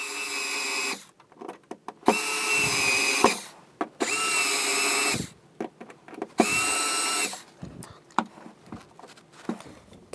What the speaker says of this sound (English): I have a little motorized screwdriver here to help drive these in.